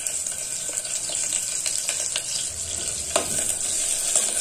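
Onion fries with a bay leaf in hot oil inside a pressure cooker, giving a continuous bright sizzle with scattered pops and stirring scrapes. It is moderately loud and steady, with no talking.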